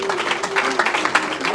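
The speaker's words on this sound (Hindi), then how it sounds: "एक बार जोरदार ताली मारो।" An audience at a Shrimad Bhagwat Katha gathering claps loudly together, a dense, steady burst of applause lasting under two seconds, with a voice faintly present beneath.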